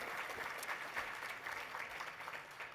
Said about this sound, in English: One more round of applause for our Citizen of the Year.